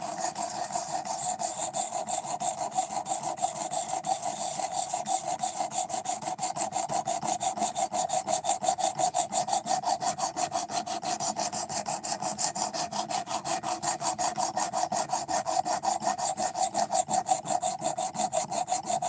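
A knife blade is stroked steadily against a sharpening stone, raising a burr on an edge that had a poor angle, making a rapid, even rasping scrape that repeats continuously and close by with no talking.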